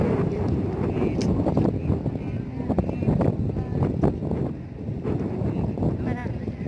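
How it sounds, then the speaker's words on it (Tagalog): Wind buffets the microphone on the Manila Bay walk, a gusty rumble with fluctuating intensity while a person talks over it. "Medyo mahangin."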